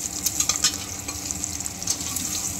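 Eggs roasting in a pan for egg biryani give a steady close sizzle and crackle, with faint stirring scrapes and no voices.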